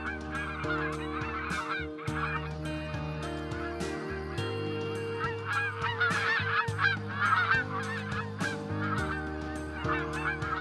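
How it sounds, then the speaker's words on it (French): A flock of geese honks steadily in flight over a Canadian wilderness during spring migration north, with many overlapping calls forming a dense, continuous chorus over a low musical backdrop. "dans le ciel, les oies regagnent le nord pour se reproduire."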